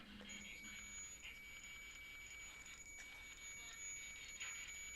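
An electronic device gives faint, rapid beeps that repeat in a steady run, thin and high against a quiet background hiss.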